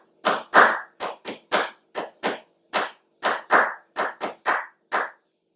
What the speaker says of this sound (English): I could start clapping it.